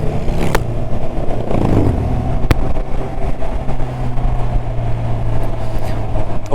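A Honda CB1000R motorcycle engine hums steadily while riding, a close, even drone under constant wind rush, with no talking.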